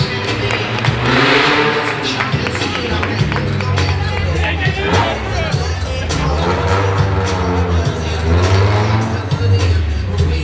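Stunt cars drive balanced on two side wheels at an extreme motor show in Valencia, their engines a steady drone under loud crowd noise and an announcer's voice throughout.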